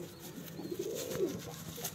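An anara khaira Madrasi pigeon gives a soft, rolling coo, faint and low against a hazy indoor background, lasting under two seconds.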